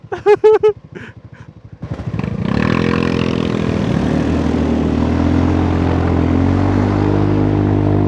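A Honda Forza 350 scooter launches hard, its engine rising into a loud, sustained, steady roar that fills the rest of the clip after a brief voice-like sound and a moment of quiet at the start.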